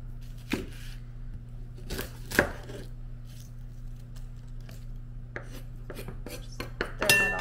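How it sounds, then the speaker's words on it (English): A knife chops vegetables on a cutting board in a quiet kitchen, making a few scattered sharp cuts and thuds against a low steady hum. "you get to watch me cut up the vegetables too"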